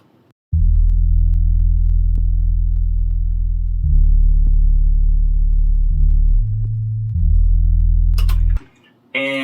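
Smooth synth bass built from a sample of a newborn baby's voice plays sustained low tones, stepping through several pitch changes over about eight seconds, loud and steady, then cutting out abruptly.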